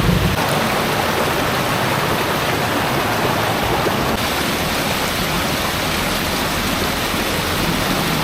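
Creek water rushes steadily in a rural spot by a highway in Quezon, Bukidnon, a dense continuous wash of flowing water heard close up with no talk.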